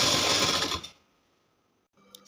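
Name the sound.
sewing machine stitching lehenga blouse fabric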